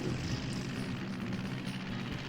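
Propeller planes float in the undersea aquarium exhibit of Scooby Doo Unmasked on PlayStation 2, giving a continuous, fairly loud droning engine hum with no talking.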